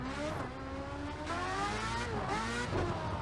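A race car engine in the Project Cars 2 racing game revs and climbs through gears with rising whines, a continuous loud roar with pitch sweeps and shifts, alone without voices.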